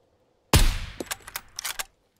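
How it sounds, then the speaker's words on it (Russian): A single sharp sniper rifle shot in the video game SCUM cracks out, followed by a few quick echoing reports and clicks that fade within a second or two. "Точно выстрел в голову."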